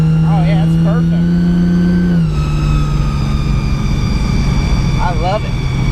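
A 2JZ-engined Toyota Supra with a TH400 transmission pulls hard, its loud droning engine note climbing steadily and then dropping sharply at a gear shift before building again, with a brief voice sounding over it near the start and end.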